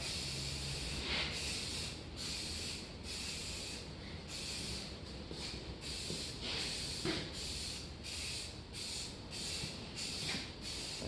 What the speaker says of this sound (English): whether you're spray painting car parts, model cars, any of that kind of stuff